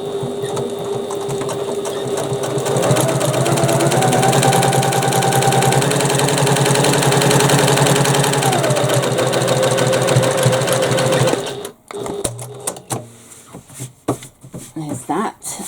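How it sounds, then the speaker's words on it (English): A sewing machine runs steadily and close, top stitching along the top edge of a bag, its motor whirring for about eleven seconds before stopping, followed by handling clatter. "now we're just going to top stitch along the top"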